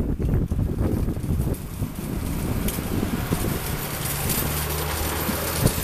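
Strong outdoor wind buffets the microphone in a continuous loud roar with gusty low rumbling throughout, masking other sounds.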